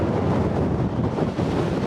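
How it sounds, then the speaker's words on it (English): Strong gusty wind battering the microphone outdoors, a dense continuous roar with slight dips, close and loud, no voices. "it's freaking windy out"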